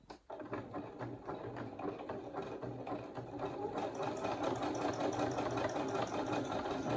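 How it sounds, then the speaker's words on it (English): A sewing machine stitches a coiled rope bowl for a Christmas project, its needle chattering in a steady, fast rhythm that runs close and loud for the whole stretch, growing slightly louder toward the end. "I'm going to be turning it as I sew"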